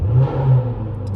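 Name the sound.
Jaguar F-Type SVR supercharged V8 engine starting and revving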